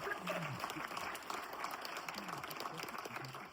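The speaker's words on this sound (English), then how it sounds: "Give her a big round of applause." Audience applause at a magic show greets a volunteer, a steady patter of clapping from a room crowd with a voice speaking faintly beneath it.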